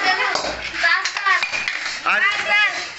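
Dirty dishes, pots and pans clatter and clink in a household, the metallic knocks and rings coming in bursts close by, with some talk mixed in.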